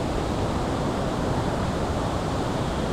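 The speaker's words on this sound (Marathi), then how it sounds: "पाण्याचा पूर्ण आवाज येतो इथून बघा, पूर्ण पाणी वाहतं इथे धबधब्याचं" Water from Chinchoti waterfall near Naigaon rushes past in a dense, unbroken roar, loud and close, holding steady throughout with no voices.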